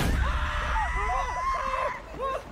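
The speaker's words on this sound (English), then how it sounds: "He also brings a lot of screaming." A man screams in the 2022 horror anthology film V/H/S/99: strained, wavering vocal cries rise and fall over a loud, steady background roar, continuous for the whole stretch.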